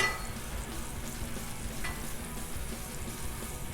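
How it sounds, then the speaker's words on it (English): Hash browns frying in olive oil and butter on a Blackstone griddle, a steady close sizzle and crackle that fills the whole stretch without pause and with no talking over it. "We love our hash browns with a little olive oil and a little butter."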